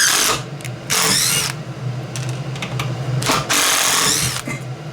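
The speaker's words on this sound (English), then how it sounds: "So the tool worked good at putting screws in." A DEWALT 12V XTREME brushless drill drives screws on high range, giving loud close motor whines in several bursts that rise in pitch and then cut off, with quieter gaps between them.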